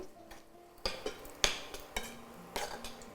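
Masala frying in oil for a spicy South Indian vegetarian prawn-style thokku, giving a soft low sizzle broken by several sharp scraping and clinking stirs of a utensil against the pan, with no talk.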